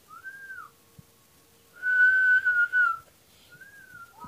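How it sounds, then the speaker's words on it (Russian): A person whistles through pursed lips during a whistling lesson: a short tone, then a louder sustained whistle with a few breaks, and another short tone at the end, all close and with no talking. "Сегодня я научу вас свистеть."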